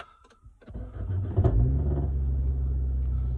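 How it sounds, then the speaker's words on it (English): A Nissan Cube engine starts and settles into a loud, deep, rattly exhaust rumble from a worn rear muffler, close by and steady. "just so you can hear the car, it needs a new back box"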